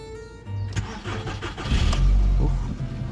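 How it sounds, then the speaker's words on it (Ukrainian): A car engine cranks and catches on a cold morning in the Carpathians, first a short whirring crank, then the motor fires and settles into a steady, loud idle. "я думаю, машинка заведеться"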